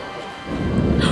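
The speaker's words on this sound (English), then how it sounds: "That is some gnarly thunder." Thunder in the Swiss Alps near Interlaken, a low rumble that swells and grows louder toward the end, heard alone without talk.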